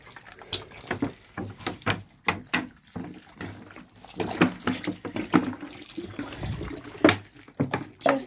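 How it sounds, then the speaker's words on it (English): Water is poured onto fresh tomato compost in a garden trough, splashing and gurgling in uneven close bursts over several seconds. "What I'm going to do now is just give them some water."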